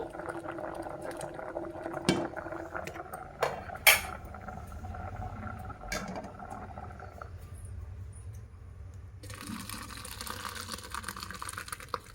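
Boiled dumplings for menthe kadubu are tipped into a strainer, giving a steady running gush of draining water with a few metallic clanks of the pot, then a brighter splashing hiss near the end.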